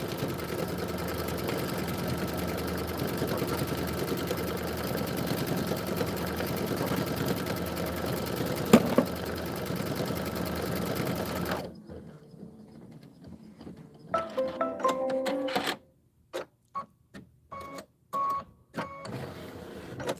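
A sewing machine stitching a Kimberbell quilt section hums steadily and loudly for about eleven seconds, then stops, giving way to quieter handling and short bursts of stitching.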